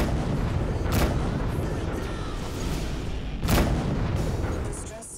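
Missiles detonate in the space game Rebel Galaxy Outlaw with two heavy booming blasts over a constant dense rumble of combat noise.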